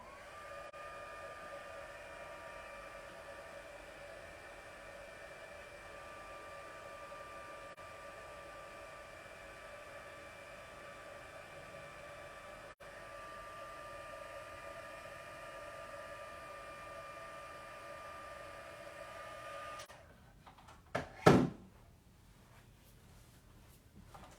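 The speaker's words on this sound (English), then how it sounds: "So I'm just doing a little heat embossing over here." A heat embossing tool blows hot air steadily for about twenty seconds, a constant close whir with a faint hum, then it cuts off, leaving a short clatter and a bump.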